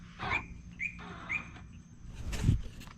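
Saab 9-5 Aero key-fob locking system giving three short, bright electronic chirps at a steady pace, followed by a duller low clunk as the trunk releases, heard close with faint background hiss.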